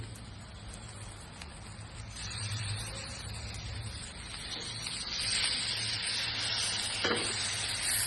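Red chili and garlic masala frying in a pan with curd added, a bright steady sizzle with occasional stirring scrapes, close and fairly loud, no talking.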